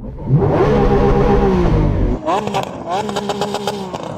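A Lamborghini Aventador SVJ's V12 revs loudly, with a sustained roar and rising harmonics followed by a couple of sharper blips, close by.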